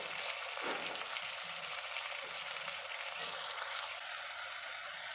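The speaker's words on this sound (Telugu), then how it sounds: "మనకి ఆ ఎర్రగడ్డలు కొంచెం దోరగా ఫ్రై అయితే సరిపోతాయి అనమాట" Onions and finely chopped tomatoes fry in a pan with curry leaves for an egg and dried fish curry, giving a steady, close sizzle that runs unbroken throughout with no talking.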